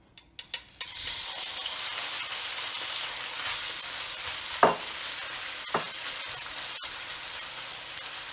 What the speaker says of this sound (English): Let that heat up. I'm gonna put the shrimp in.